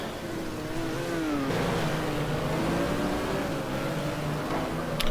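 A Porsche race car in a GT2 racing video game at the Daytona road course, its engine roaring steadily with wavering pitch as it loses control, amid other cars droning in a dense, continuous wash of engine noise.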